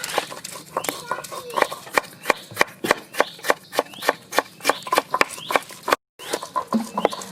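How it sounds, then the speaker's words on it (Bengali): A knife cuts tomatoes into large chunks for a chutney in a village kitchen, giving a close, steady run of sharp chops with a brief break, over faint background noise and some talking. "টমেটো কেটে নেব।"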